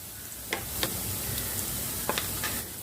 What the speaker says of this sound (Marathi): आपल्याला हे बदामी कलरचं होईस्तवर छान भाजून घ्यायचं आहे